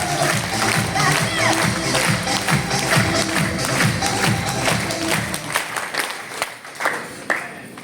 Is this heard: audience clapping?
yes